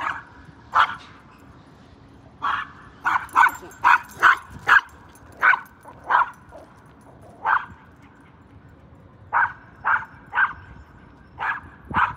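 A small dog barking outdoors on a walk in short sharp yips, singly and in quick bursts, with pauses between, close and fairly loud, with no talking.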